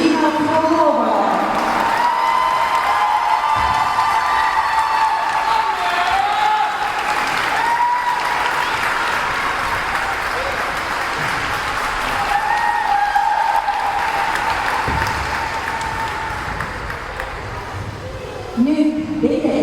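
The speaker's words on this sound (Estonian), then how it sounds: "Ja suur aplaus meie solistile Liina Krolovale." An ice rink audience applauds a figure skating soloist at a skating school's season-end show, with steady, dense clapping sustained throughout and light cheering mixed in, fading slightly toward the end.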